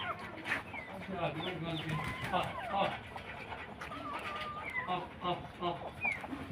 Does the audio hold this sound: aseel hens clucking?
yes